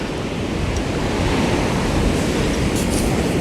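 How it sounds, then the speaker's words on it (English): Angry ocean waves break on a New Jersey beach before a storm, a loud, continuous surf roar mixed with wind buffeting the microphone, close and unbroken throughout. "Those waves are getting angry."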